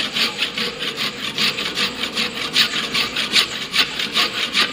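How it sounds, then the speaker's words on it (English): Steady back-and-forth strokes of a hand saw biting through wood for a carpentry T joint, close and loud, with a regular rasping rhythm and no voices. "we are performing the sawing operation"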